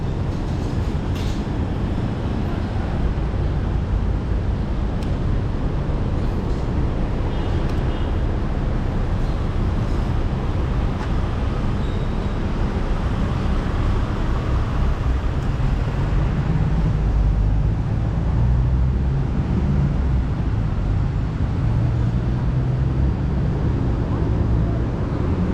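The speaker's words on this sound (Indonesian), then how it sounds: "Banyak motor." Many motorbikes fill a busy city street in Kuala Lumpur near Masjid Jamek and Dataran Merdeka, a dense, steady traffic rumble that continues without a break the whole time.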